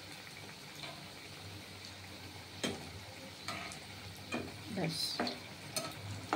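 Sarbhaja, a Bengali sweet, fries in a pan with a steady low sizzle, broken by a few sharp clicks and scrapes of stirring near the end, close and quiet, with one brief spoken word.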